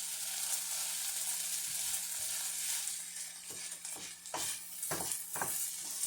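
Spinach frying down in a pan with garlic gives a continuous hissing sizzle, broken toward the end by several spatula stirs and scrapes against the pan, with a faint low hum behind and no talking.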